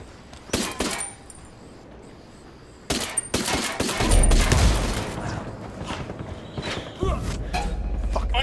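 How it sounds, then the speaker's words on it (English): Heavy gunfire in Tom Clancy's Ghost Recon: loud bursts of shots and impacts in clusters, a quieter gap, then a sustained heavy barrage with rumbling booms, mixed with faint voices. "Under heavy fire."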